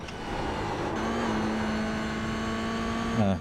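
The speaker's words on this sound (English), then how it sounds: "I'm braking a bit later and coming down 2 gears." A race car on track, its engine droning steadily at high revs from onboard, then dropping pitch in quick stepped blips near the end as the driver brakes and downshifts two gears.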